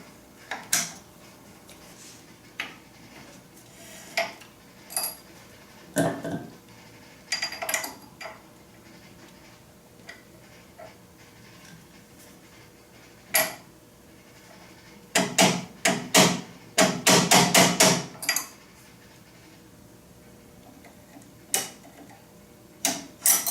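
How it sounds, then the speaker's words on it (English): Metallic clicks, taps and clunks come from working a brake pad out of a BMW R65 motorcycle brake caliper. The sounds are close and scattered, with one dense burst of rapid clatter near the end and no talking. "we need to pop one of the brake pads out"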